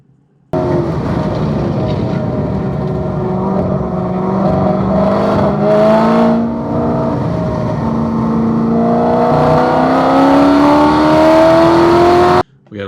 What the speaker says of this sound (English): We're in wide open throttle, heading towards turn 5